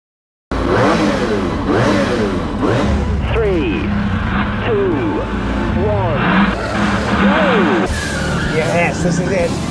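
A BMW accelerates hard in a drag race, its engine loud and close, revving through rising and falling gear sweeps for several seconds, with voices talking over it.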